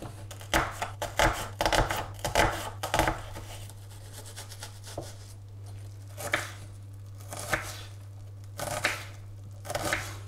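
An onion is chopped with a knife on a board, giving irregular bursts of quick, crisp cuts with short pauses between, close and fairly quiet over a steady low hum.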